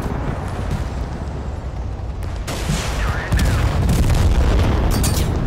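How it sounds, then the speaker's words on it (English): Artillery going off in a tactical shooter video game, a steady wash of distant rumbling booms and scattered gunfire that grows louder partway through, with no voices. "Looks like there's some artillery going off."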